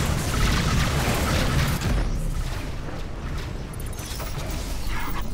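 Missile explosions striking a spaceship in the space combat video game Rebel Galaxy: heavy, sustained rumbling booms with crackling bursts, loud and close, with no talk.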